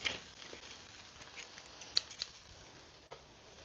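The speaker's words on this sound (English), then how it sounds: "I love using scissors to cut into things" Kitchen scissors snipping into food while cooking bibimbap, a couple of faint, short cuts near the middle over a quiet room background.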